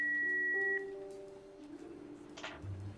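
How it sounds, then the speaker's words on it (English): Answering machine beep in a Jackbox party video game: a sustained electronic tone that cuts off, followed by lower sliding synthetic tones and a short burst of noise, all fairly quiet. "Please leave a message at the beep"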